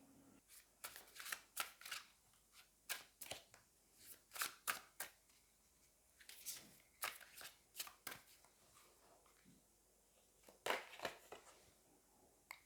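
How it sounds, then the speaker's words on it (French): Oracle cards from a fallen angels deck being shuffled and drawn, producing quick, crisp riffling bursts in irregular clusters, close and fairly quiet, with no voice. "Je vais prendre une carte des anges déchus"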